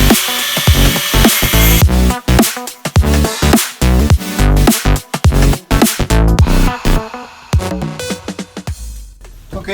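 A small metal tab is cut off a Volkswagen ignition, turn-signal and wiper switch with loud, close rasping strokes that come in an uneven rhythm with short pauses. No one speaks.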